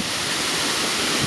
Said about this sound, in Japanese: ちょっとした滝みたいな感じでダーッと行ってますね。 で、綺麗な水が流れてます。